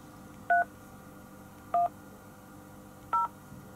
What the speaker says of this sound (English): Please enter the wireless phone number that you are calling about, starting with the area code.